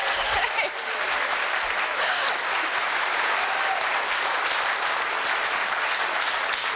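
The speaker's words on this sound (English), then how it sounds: "Give her a round of applause." Audience at the 2015 Gateway to Reason conference claps continuously for a speaker taking the stage, a sustained, even roar of many hands heard from a little distance with no voices.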